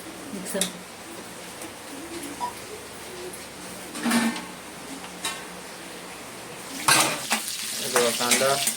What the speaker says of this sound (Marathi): बघा कांदा आणि कढीपत्ता तेलात आता फ्राय करायचा.